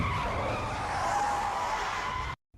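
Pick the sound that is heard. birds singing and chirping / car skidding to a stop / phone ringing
car skidding to a stop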